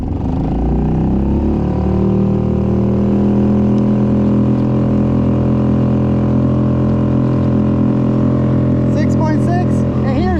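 A gasoline outboard motor runs on a boat with a loud, steady engine drone that holds an even pitch throughout, and a short voice comes in near the end.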